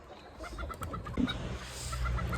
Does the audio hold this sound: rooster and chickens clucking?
yes